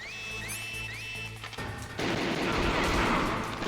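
Gunfire in the Metal Gear Solid video game, a dense sustained burst of shots with crashing noise that swells loud after electronic game tones, no talking over it.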